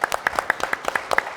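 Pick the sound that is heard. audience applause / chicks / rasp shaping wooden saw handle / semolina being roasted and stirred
audience applause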